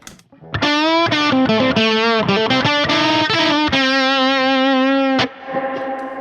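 A distorted electric guitar through a Mesa Boogie Express Plus 5:25 tube amp plays chords and a sustained note that ring out with a reverb tail, loud and alone.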